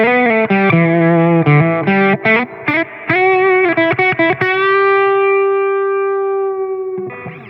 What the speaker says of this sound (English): Let's hear what it sounds like on the reverb as well